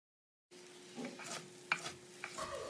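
Spoon stirring egg fried rice with pepper in a pan, giving a few soft scraping and clinking strokes over a faint sizzle, close and fairly quiet after a brief silent start.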